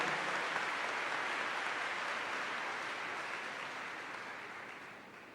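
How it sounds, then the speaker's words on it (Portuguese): A church congregation applauding during a worship service, a sustained, even wash of many hands clapping at a distance that slowly fades toward the end. "Pode aplaudir bem forte essa palavra."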